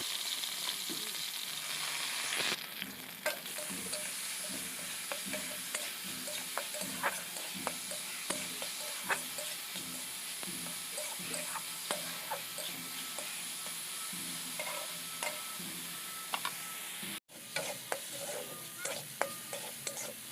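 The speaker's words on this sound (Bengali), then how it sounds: "মুগ ডালটা ভাজতে একটু সময় লাগবে যেহেতু ভেজানো ছিল, তো ভেজে নেব মুগ ডালটা।" Soaked moong dal fries and sizzles in a pan, stirred steadily throughout with repeated scraping and clinks of a spatula against the metal, close and fairly loud with no talking.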